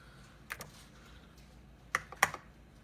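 Login typed on a computer keyboard: a few quiet, separate key clicks, a lone tap and then a short burst of two or three presses near the end, against a faint room hush.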